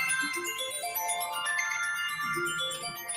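A mobile phone's ringtone plays a quiet melodic sequence of bright tones, repeating across a few seconds with no talk over it.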